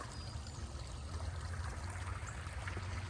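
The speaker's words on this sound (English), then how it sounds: "The water's up and over the little dam" Steady rushing of creek water pouring continuously over a small dam, a soft, even wash of sound heard from a little distance with no voices.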